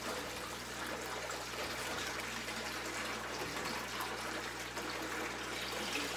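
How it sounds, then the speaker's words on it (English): Water flows steadily through a fish tank siphon line, a continuous close trickling rush that holds even from start to finish with no voices. "take your thumb off the line, and it's gonna start your siphon"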